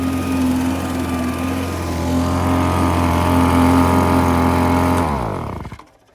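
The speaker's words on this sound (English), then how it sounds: "I let the material clear from the sluice box before turning off the blower." The small engine of a dry washer blower, used for desert gold mining, drones steadily at close range, then is switched off and winds down to silence near the end.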